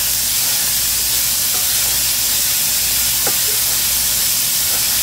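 Steady steam hiss fills the pan while Rice-A-Roni cooks, a continuous broadband sizzle at fairly loud, even level with no pauses.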